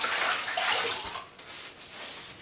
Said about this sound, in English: First, you want to get the floor a little bit wet